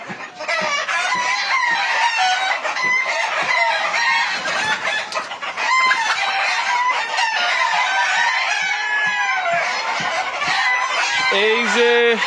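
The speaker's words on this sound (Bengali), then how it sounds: "অরিজিনাল মিশরীয় ফাউমি মুরগি এখানে আছে এখানে হচ্ছে ডিম ডিম পারতেছে" Egyptian Fayoumi hens cluck busily while laying eggs on a poultry farm, many overlapping calls in a dense, continuous chorus with a louder squawk near the end.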